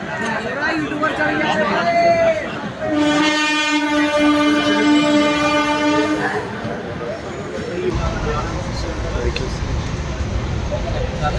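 A Vande Bharat express train rushes past close by with a loud rolling roar and a sustained multi-tone horn blast, while people chatter nearby.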